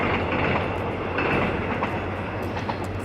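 A passing train bound for Busan, seen from a coastal walking trail, rumbles steadily nearby with a continuous broadband roar and faint rail clatter, loud and unbroken throughout.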